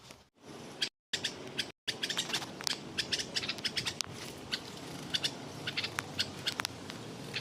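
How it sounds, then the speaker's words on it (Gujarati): Small sparrows chirp repeatedly in a busy, overlapping chatter, fairly close, with sharp bright calls scattered throughout and no talking. "અહીંયા ચકલીઓ અત્યારે પણ નવા આવી ગઈ છે કેવી નાય છે આ બે ચકલીઓ"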